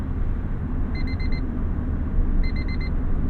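A 1991 Honda Civic Si sounds its warning beeper while driving: two quick bursts of four rapid high beeps each, over a steady low engine and road rumble.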